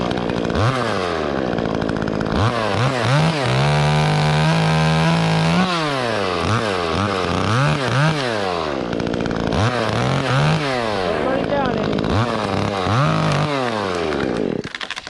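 Chainsaw cutting through a large tree limb above a house, running loud and close with repeated revs rising and falling as the cut progresses, then easing off at the end.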